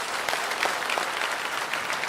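A large crowd applauds steadily and fairly loudly after the Shenzhou 20 crewed launch is declared a success, a dense continuous patter of clapping with no voices on top.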